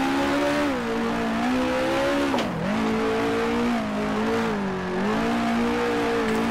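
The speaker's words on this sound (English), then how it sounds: "a lot of sliding there, drifting the car through these corners" A 1966 race car in Grand Prix Legends at Warwick Farm, its loud engine drone rising and dipping continuously as it slides and drifts through corners, with a brief sharp dip in pitch midway.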